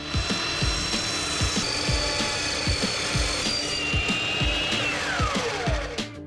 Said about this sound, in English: cut the side post from the opposite side of the cap to the desired height